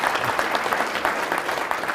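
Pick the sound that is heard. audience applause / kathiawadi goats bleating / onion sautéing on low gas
audience applause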